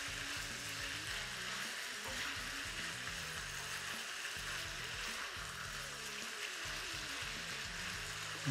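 Bacon sizzles and crackles steadily in a frying pan, a close continuous fry with soft spitting and no talking.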